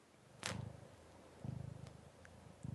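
A cat purrs close by in repeated rhythmic bursts of low rumbling, with a couple of brief sharp clicks between them and no talking.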